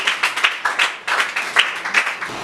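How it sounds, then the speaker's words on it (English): Audience at a financial literacy summit for women clapping for a speaker, a dense, fairly close burst of applause that carries on steadily throughout. "Can we put our hands in applause for him?"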